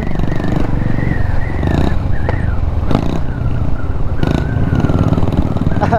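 A motorcycle engine drones steadily while riding along a road, with a wavering whine and recurring bursts of clatter and rushing noise, fairly loud and close throughout.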